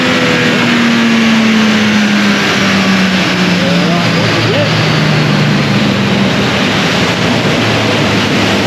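A Holden VL Turbo car on a dyno roars loud and sustained under load, its engine pitch slowly shifting as it holds high revs.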